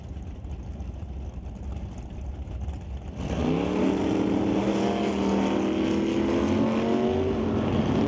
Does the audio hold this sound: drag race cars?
yes